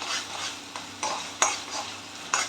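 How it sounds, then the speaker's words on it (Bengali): Minced chicken keema hisses in a pan while a spatula pushes it around in a few soft, regular strokes with light scraping, close and moderately loud, no voices. "এটাকে ভালো করে নাড়াচাড়া করে দেবেন"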